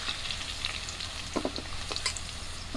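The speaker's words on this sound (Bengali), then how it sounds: "মাছ ভাজা তেলেই আমি আলুগুলো ভেজে নেব" Potatoes sizzle in oil left over from frying fish, a continuous close crackle and hiss with a few soft clinks and stirring scrapes partway through, no voices.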